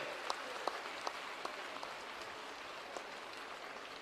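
An audience applauds forest department staff and officials at a Delhi green-cover event, a soft, distant patter of clapping with a few sharper claps standing out.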